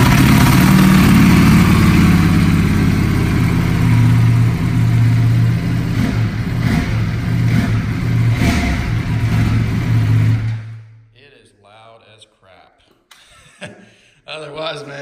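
A Ducati Panigale V4S motorcycle engine runs loud and close, rumbling and blipping through several revs for about ten seconds, then cuts off, leaving quiet and faint sounds.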